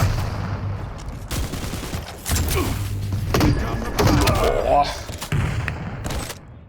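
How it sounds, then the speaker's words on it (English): Grenade explosions and railgun shots in a Quake duel match, a dense run of close, loud bursts and booms with weapon and movement effects in between. "The grenades just bounce away from ma1kl, it seems like."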